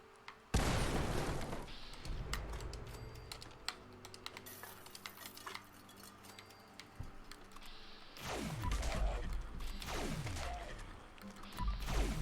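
Rapid bursts of gunfire from a faster fire rate weapon in a video game, loud sharp shots clustered at the start and again near the end, with quieter game ambience between.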